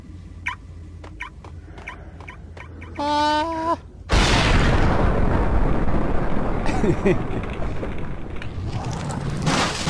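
In the video game Max Payne, a grenade goes off with a sudden loud boom after a few sharp clicks and a short tonal sound, then trails into a long, rumbling decay.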